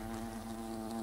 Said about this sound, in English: Those are big-ass wasps!